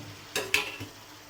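Fried prawns stirred in a pan over lowered heat: two quick scraping clinks of a utensil against the pan over a faint sizzle, brief and close, no talking.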